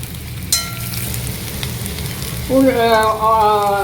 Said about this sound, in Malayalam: എണ്ണ ചൂടായിട്ടുണ്ട്. അതിലേക്ക് ഒരു 3 മീഡിയം സൈസ് വലിപ്പമുള്ളതായ അനിയന് ചോപ്പ് ചെയ്തത് ഇടുന്നു.